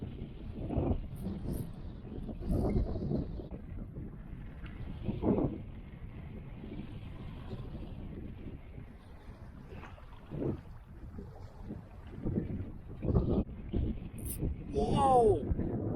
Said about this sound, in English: We're just gonna have to fight with the wind a lot.